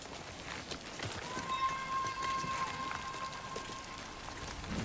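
Steady rain falls across an outdoor scene in the video game Death Stranding 2, a continuous broadband hiss with scattered drop patters and a faint sustained tone running through it, with no one speaking.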